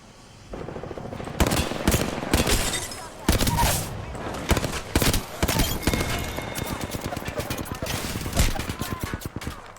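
Rapid automatic gunfire in an Apex Legends match, loud, close bursts of shots with sharp individual cracks, mixed with game voice lines and background talk.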